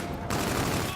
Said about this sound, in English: In this game, frags are these 9-bang things. They just continuously explode.